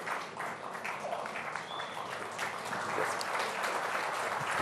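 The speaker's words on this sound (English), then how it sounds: "Ladies and gentlemen, please raise a warm applause." Applause from an audience at the India Today Conclave 2024 welcoming the sculptor of the Ram Lala statue, a steady wash of clapping that grows slightly toward the end with a few voices mixed in.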